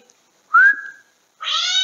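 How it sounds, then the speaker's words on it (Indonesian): A short whistle is followed by a loud, drawn-out recorded cat meow playing from a phone speaker, close and clear. "Ini suara yang saya pilih adalah suara kucing."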